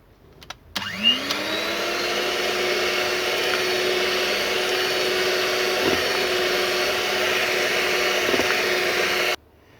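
An electric hand mixer whirs steadily at medium power through a mango ice cream mixture, a loud even drone that starts abruptly and cuts off near the end.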